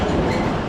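A rail rumble and clatter echo inside a Tokyo Shinkansen station, loud and steady over a short moment with no talk.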